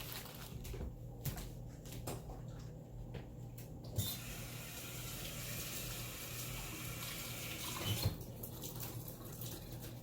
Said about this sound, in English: I'm about to rinse it off before I start back cutting my vegetables